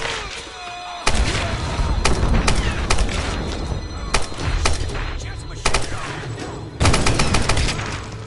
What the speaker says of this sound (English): she has a machine gun